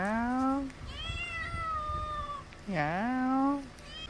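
Hungry country cat meowing for food, two long drawn-out wailing meows close to the microphone separated by a quieter stretch, with faint background noise.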